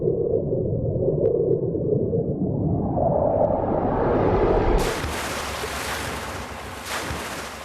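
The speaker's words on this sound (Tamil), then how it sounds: "அந்த பொண்ணு தண்ணியில குதிச்சாடா." A girl jumps into the water, a sudden broad splash cutting in over a steady roar of waves and wind, followed by churning water noise.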